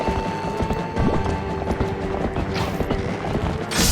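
Horse galloping in the video game Zelda: Twilight Princess, a steady rapid clip-clop of hooves running close and loud, with no talking.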